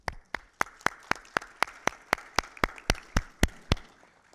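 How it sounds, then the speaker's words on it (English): Applause for conference panelists comes through as a sparse run of about fifteen distinct, evenly spaced claps at a steady rhythm, fairly close and clear, with no talking over it. "Can we give them a round of applause?"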